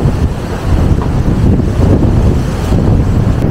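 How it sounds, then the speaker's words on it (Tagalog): Strong wind in Tokyo roars and buffets the microphone, a loud, steady rushing noise with no voices. "Lakas ng hangin daw ng araw."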